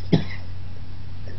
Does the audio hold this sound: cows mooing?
no